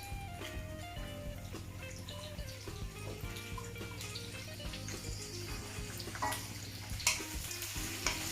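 Prawns frying in hot oil in a pan, a steady low sizzle with faint clinks and scrapes throughout, without any talking.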